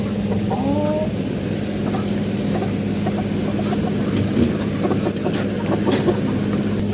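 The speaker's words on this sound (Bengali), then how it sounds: "এখানে দুইটা মোরগ এবং তিনটা মুরগি" A small lot of silkie chickens, two roosters and three hens, cluck and call in short bursts close by, over a steady engine hum and background noise, without speech.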